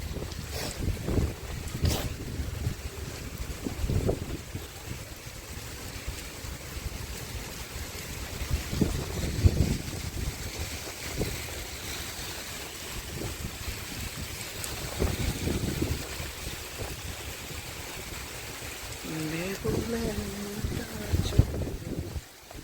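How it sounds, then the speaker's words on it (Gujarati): Heavy rain driven by strong wind, recorded outdoors near a rooftop, comes through as a constant roar with rough gusts buffeting the microphone and swelling at intervals. "વરસાદ પડે છે બહુ"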